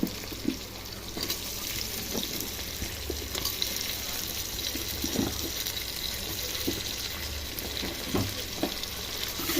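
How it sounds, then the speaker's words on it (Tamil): Onion and tomato sautéing in a pan for chicken biryani, a steady soft sizzle with faint scraping stirs and occasional clinks, close by and alone with no talk. "வெங்காயத்தை தக்காளி நல்லா வதக்குங்க."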